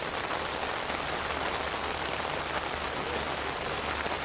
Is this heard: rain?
yes